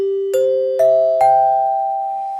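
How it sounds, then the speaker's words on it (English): Dining car chimes on a train: four clear, ringing tones struck one after another, each rising slightly in pitch and left to hum and sustain, close and bright, with no talking. "one of the waiters would walk through every car on the train and ring these chimes."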